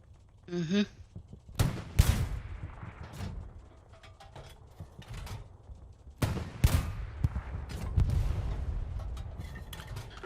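Anti-tank gun fired in the Hell Let Loose video game, two heavy booming shots several seconds apart against a tank's frontal armor, with mechanical reloading noises and distant battlefield rumble between them.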